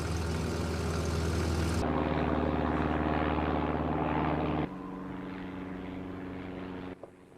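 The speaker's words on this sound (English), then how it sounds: "there's a plane" A propeller airplane drones overhead, loud and steady with a low engine hum, then dips to a quieter, more distant drone in the final seconds.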